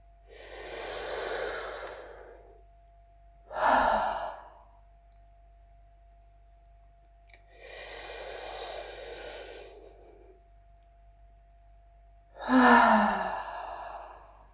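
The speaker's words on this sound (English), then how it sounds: "And now we take 2 deep breaths together again." Two slow, deep breaths taken during breath-along apnea training, each a long airy draw followed by a shorter, sharper release, close and clear against near silence, with no talking.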